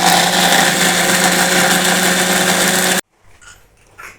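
An electric mixer grinds seblak spice ingredients with a loud, steady motor whir for about three seconds, then cuts off abruptly, leaving faint handling noises.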